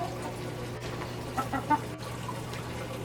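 Chickens cluck softly nearby, a few short murmuring clucks over a steady low hum and outdoor background noise.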